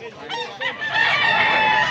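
A large white rooster crows up close, a loud harmonic call building after a couple of clucks and holding steady to the end.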